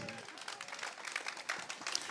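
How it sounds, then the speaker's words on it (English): Applause from a blues festival audience in Cognac after a performance, with scattered claps and crowd noise rising in bursts, and a voice speaking over the clapping. "je crois que ça mérite encore plus d'applaudissements."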